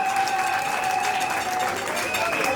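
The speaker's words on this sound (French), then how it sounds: "mais elle mérite les applaudissements" Applause and crowd noise greet a woman being praised, a steady dense wash of clapping with a sustained tone running underneath throughout, no pauses.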